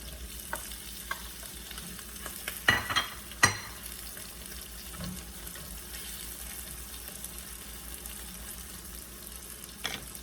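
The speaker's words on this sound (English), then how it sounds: "And just saute the garlic and the onions. Now we can add our potatoes." Garlic, onions and potatoes sauté in a pan for buttered vegetables, giving a faint, steady background sizzle with a few louder clunks and scrapes of stirring scattered through.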